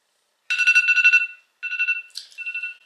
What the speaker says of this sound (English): now that our timer is done, it's been 10 minutes